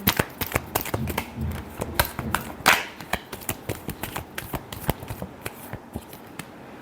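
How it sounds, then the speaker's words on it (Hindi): Tarot cards are shuffled by hand in quick, crisp riffling bursts, with a steady run of close, sharp flicks and slaps repeating for several seconds with no talk. "Last shuffle."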